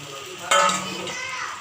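Boiled taro tipped into a pan where potato, tomato, onion, garlic and ginger are frying, giving a sudden loud clatter and sizzle that then settles into a steady, softer fry.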